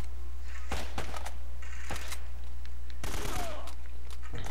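Gunfire in Uncharted: Drake's Fortune, sharp shots and short bursts popping at irregular moments over a constant low in-game rumble, fairly close, with no talking.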